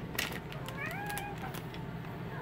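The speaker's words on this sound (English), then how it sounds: "Look, the kitty cat is wanting to get involved." A house cat gives a couple of clear, rising meows up close at moderate volume over a quiet room background, with faint handling noises.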